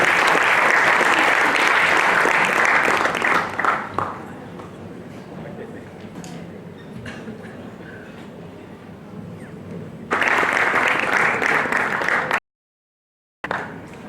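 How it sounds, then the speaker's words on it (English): An E-Summit crowd at Jai Hind College, Churchgate applauds as a guest speaker is welcomed: loud, dense applause that fades after about four seconds into a quieter stretch with a voice, then swells again before cutting off abruptly. "please, with a huge round of applause, welcome Mr. Chinmay Viveka"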